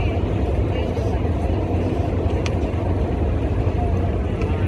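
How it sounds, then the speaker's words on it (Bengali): A boat engine, stated to be a trawler, passes close by at a Barisal launch ghat: a dense, steady low rumble and churn that stays loud throughout, with voices mixed into the din. "এই মুহূর্তে কিন্তু খুবই কাছাকাছি ট্রলারটি।"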